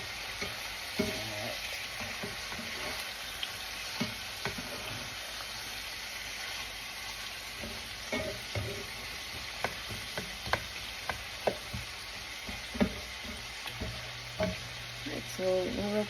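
Hamburger steak patties fry in a pan with a steady, bright sizzle, punctuated by occasional clicks and scrapes of a utensil, close and continuous without speech.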